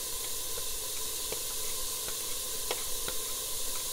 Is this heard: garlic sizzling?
yes